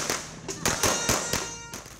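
Firecrackers and Judas Belt strings set off together to welcome New Year 2024 in the Bicol region, a rapid run of sharp, loud bangs and crackles with brief gaps, close by and overlapping one another.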